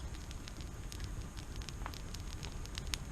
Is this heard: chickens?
no